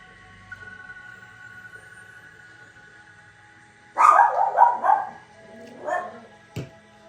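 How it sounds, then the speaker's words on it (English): A dog barks from the next room in a short burst of several loud barks, followed by one or two more, over a faint steady background hum. "She just goes in the next room and barks."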